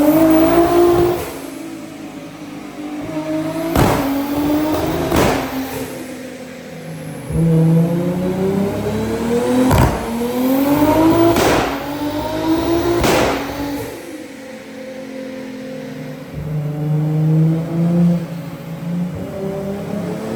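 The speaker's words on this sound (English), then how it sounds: "It literally sounds like shotgun shots out the back of the car." A Toyota Supra with a 1000 hp single-turbo engine and automatic gearbox runs loud and close, its engine rising and falling through revs with sharp backfire pops cracking out at intervals.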